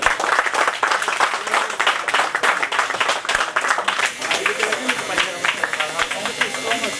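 An audience applauds at a lucky draw event at a Rathod Sons store in Dabagardens, with dense, steady clapping throughout and voices heard over it.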